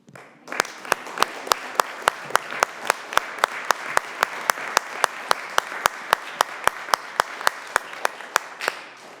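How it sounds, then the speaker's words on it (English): Students at an academy evening event stand and applaud their parents, a steady round of sharp, evenly spaced claps over a dense wash of clapping, loud and close, lasting the whole stretch without talk. "Students, why don't you stand and give a round of applause to your parents?"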